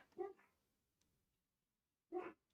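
Dogs in a house give two short, sharp barks about two seconds apart, moderately close, with near silence between them and no talk.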